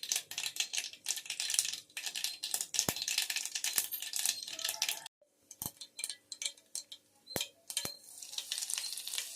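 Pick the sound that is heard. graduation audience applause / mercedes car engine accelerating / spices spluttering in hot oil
spices spluttering in hot oil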